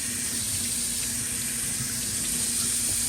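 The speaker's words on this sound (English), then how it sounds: "Rinse it, keep rinsing it." Tap water running steadily onto a PEI 3D printer plate held under a faucet while it is rinsed, a close, continuous broadband splashing hiss with no break and no voices.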